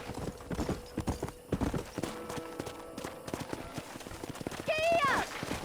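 Horse hooves clip-clop steadily in Red Dead Redemption, a rhythmic run of hoofbeats near and clear beneath game dialogue, ending with a short horse whinny.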